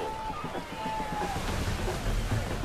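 A sailing ship creaks and moves through the water in Assassin's Creed III, with waves and wind rushing around it under steady game sound and someone talking.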